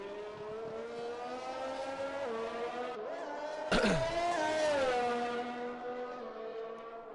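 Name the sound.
racing car engine in a sim racing video game, Canada track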